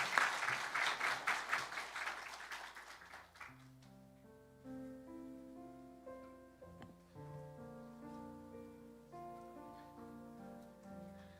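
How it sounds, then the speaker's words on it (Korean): Church congregation at a Korean Sunday worship service applauding to welcome a member coming up to give testimony before a baptism; a few seconds of scattered clapping fades into soft organ or keyboard music. "박수로 한번 맞이해 주시면 고맙겠습니다."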